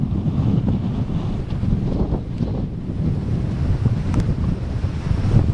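Extremely heavy, strong wind batters the microphone on a mountain trek near Jagat on the Manaslu route, a loud continuous roaring buffet with gusty surges and no voices.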